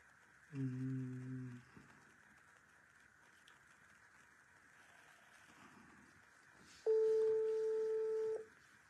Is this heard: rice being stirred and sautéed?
no